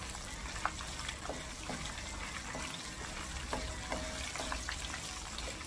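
Dried red chillies frying in hot oil for a chutney, a steady dense sizzle with scattered small pops and crackles, close and continuous, no voices.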